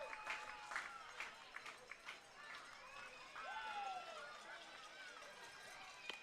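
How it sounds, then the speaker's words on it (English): A baseball crowd at a Lincoln Potters versus Solano Mudcats game, cheering and clapping from a distance with a steady roar that swells midway, under a commentator's voice. "The crowd on their feet trying to get that last strike out of this one and put this one to bed."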